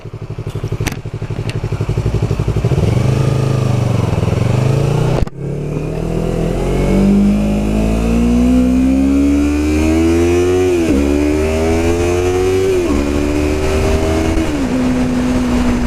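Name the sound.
motorcycle riding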